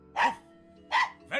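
A dog barks in a beekeeping video game, two sharp, close barks and the start of a third, clean and isolated against a quiet hum.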